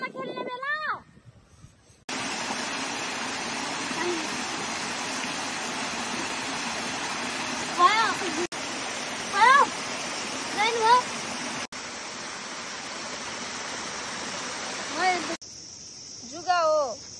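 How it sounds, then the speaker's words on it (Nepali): A waterfall rushes in a steady, loud broadband roar that holds for most of the stretch, while children's voices talk and call over it. "झरनामा खेल्ने बेला"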